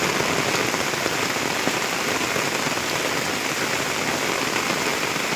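Heavy rain pours steadily while walking home from school, a dense, loud, even hiss of drops hitting surfaces throughout with no breaks and no talk.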